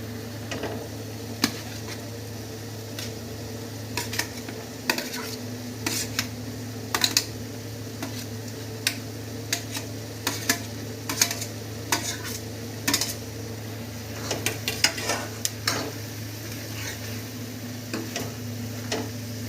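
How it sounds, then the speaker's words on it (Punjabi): Mushrooms go into a pan for a mushroom matar curry, and a steady low hum and faint sizzle run under repeated sharp clicks and scrapes of a spoon stirring against the pan. "ਹੁਣ ਆਪਾਂ ਇਹਦੇ ਵਿੱਚ ਮਸ਼ਰੂਮ ਵੀ ਪਾ ਦਿੰਨੇ"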